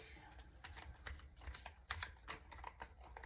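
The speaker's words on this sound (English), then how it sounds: "Let me get a good shuffle on real quick." A deck of tarot cards being shuffled, a quiet run of light, crisp riffling taps and flicks close by, with no talking over it.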